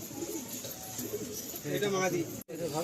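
A spirited pair of pigeons for sale gives soft, throaty coos up close, with someone talking over them.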